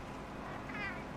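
Jasper, a big furry house cat, gives one short, faint meow close by, rising briefly out of a soft, steady background hum.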